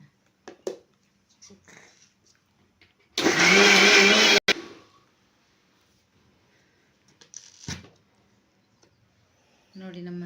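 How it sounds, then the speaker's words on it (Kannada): A mixer grinder whirs loudly for about a second, grinding mint and coriander leaves into chutney, between scattered kitchen clatter and brief voices. "ಪುದೀನ ಸೊಪ್ಪು ಇದನ್ನು ಹಾಕಿ ಇನ್ನೊಂದ್ಸರಿ ರುಬ್ಕೊಂಡ್ಬಿಡೋಣ"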